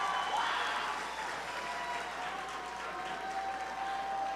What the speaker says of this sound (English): Go crazy, go wild, cheer for them